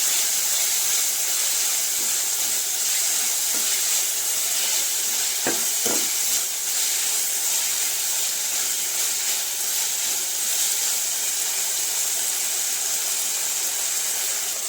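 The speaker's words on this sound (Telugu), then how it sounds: "మనము ఇప్పుడు అల్లం వెల్లుల్లి పేస్ట్ దానికి యాడ్ చేసుకొని పచ్చివాసన పోయేట్టుగా వేసుకోవాలి" Ginger garlic paste frying with tomatoes in a pan, a constant moderate sizzle and steam hiss with a couple of brief spoon scrapes near the middle.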